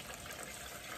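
Liquid pours steadily into a container in a short, continuous gushing stream, close and fairly even in level, with no talk.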